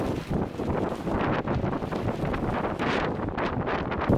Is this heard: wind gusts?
yes